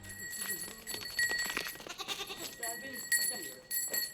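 Goats bought for a small farm bleat several times nearby, short wavering calls over a faint ringing background, with people talking at times.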